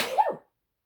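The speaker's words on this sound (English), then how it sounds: "Oh, I'm definitely going to sneeze." One short, fairly loud sneeze from a person working at a desk, a brief burst that drops quickly into silence.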